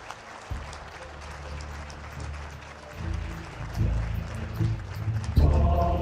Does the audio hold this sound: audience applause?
yes